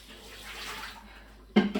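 Water pours into a cooking pot for New Mexico posole, a soft, steady running-water wash near a kitchen sink that fades, then a sudden louder splash or clatter of water and pot at the end.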